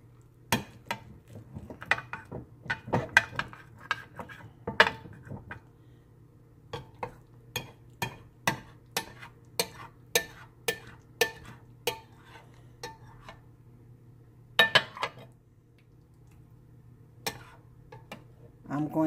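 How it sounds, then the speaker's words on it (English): Turkey wings shifted around in a pan, giving a string of sharp, close scrapes and clinks of utensil against pan, irregular then fairly steady, over a low hum. "Now you just want to move them around to make sure they're not sticking to the pan."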